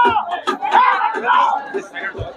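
A dense crowd at the Bandbahal Dhanu Yatra fair, in the busy Mina Bazaar area, fills the air with overlapping chatter and shouts, and a nearby voice talks over the steady hubbub.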